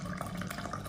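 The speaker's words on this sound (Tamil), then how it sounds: "நம்ம ஜல்லடையில் நம்ம வெயிட் லாஸ் கொள்ளு பவுடரை நிறுத்தாச்சு" Horse gram drink poured through a kitchen sieve makes a close, steady trickle and splash of liquid that runs continuously with no talking.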